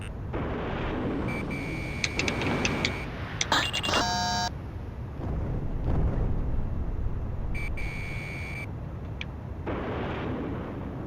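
Combat flight in the video game Ace Combat 6, with rapid electronic missile-warning beeps sounding in bursts over a constant roar of jet engine and distant explosive booms and gunfire.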